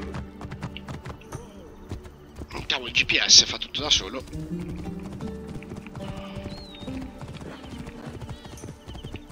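Hooves of Anubis's horse in Assassin's Creed Origins clatter in a quick galloping rhythm, with a loud neigh partway through, while someone talks over the hoofbeats throughout.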